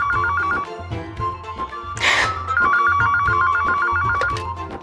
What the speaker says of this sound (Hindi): कोई फोन तो उठाओ।